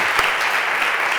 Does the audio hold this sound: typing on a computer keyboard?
no